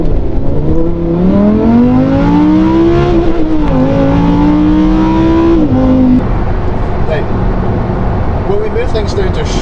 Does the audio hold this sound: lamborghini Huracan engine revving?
yes